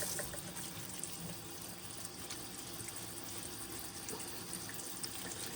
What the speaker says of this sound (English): I'm going to rinse them really good with cold water.